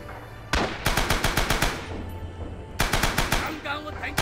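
Rapid machine-gun bursts in the World War II shooter Rising Storm, two loud, fast strings of shots separated by a lull of ambient battle noise, close and dominant.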